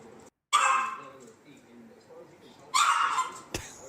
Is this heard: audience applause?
no